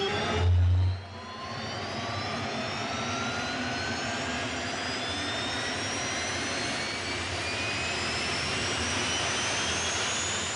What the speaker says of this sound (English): Let's watch and listen as the driver fires up his jet engine.